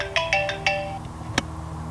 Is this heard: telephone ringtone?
yes